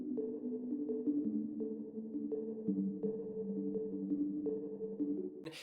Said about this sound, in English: I added this one shot and then added tons of reverb from it